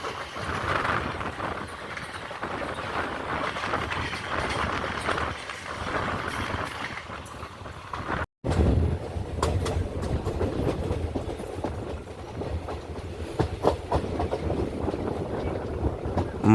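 A diesel-hauled Velankanni Express pulls into Mavelikkara station with a steady rumble and clatter of wheels over rail joints, close and loud throughout, broken by a brief gap partway through.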